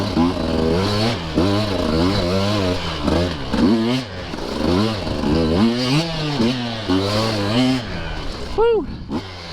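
A 2023 Husqvarna TE150 dirt bike ridden hard: the small two-stroke engine revs up and down in repeated rising and falling surges, loud and close, with a voice talking over it.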